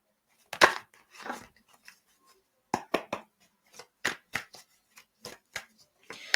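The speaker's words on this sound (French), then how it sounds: "je mets les cartes sur la petite tablette" Tarot cards are handled close up: a series of soft, crisp flicks and slaps in irregular clusters, with quiet gaps between them.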